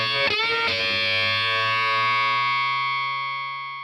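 An electric guitar runs through an effects pedalboard: a few distorted picked notes, then one thick chord with octave sustain that rings out and slowly fades.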